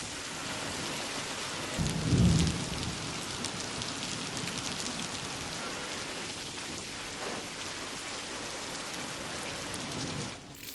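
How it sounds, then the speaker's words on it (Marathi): Steady monsoon downpour over Amboli in the Konkan region, a dense hiss of rain on surfaces with a deep rumble of thunder swelling about two seconds in, then a continuous wash of rainfall and faint distant rolls, with no talk. "दुपारनंतर मान्सून धारा बरसू लागल्या आहेत"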